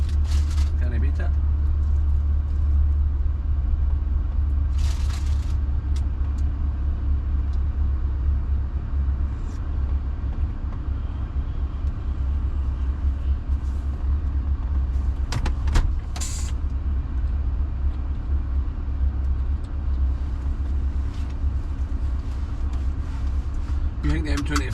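Busy road traffic on a French road, a continuous low rumble of passing cars and heavier vehicles with a couple of brief swooshes, heard from inside a moving vehicle under occasional talk.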